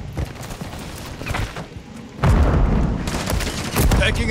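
Bursts of gunfire and booming impacts from Call of Duty Modern Warfare 3 multiplayer play, with rapid shots that swell louder in the second half against a continuous battle backdrop.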